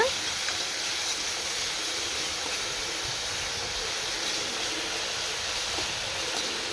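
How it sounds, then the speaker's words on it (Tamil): Onions sautéing with a ground coriander paste for sambar give a steady, even sizzling hiss that runs unbroken from start to finish at moderate, close-up volume, with no voices. "இப்போ இந்த வெங்காயத்தோட அந்த பேஸ்ட்டும் சேர்த்து நல்லா வந்து வதக்கி கொடுங்க"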